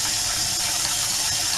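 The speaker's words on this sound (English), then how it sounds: "The water from that is draining from these drains will go directly into" Water drains steadily through the drain lines of a 1984 Skyline camper, a continuous close hissing rush with no pauses, alone without any voices.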